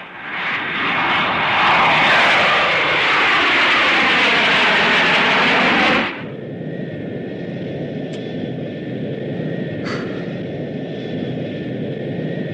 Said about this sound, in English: It's the same aircraft I came out of.